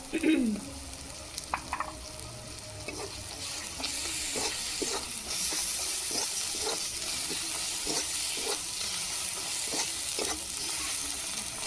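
Ginger garlic paste frying in oil in a pan, a steady soft sizzle with repeated scraping stirs and a few clinks, close and continuous.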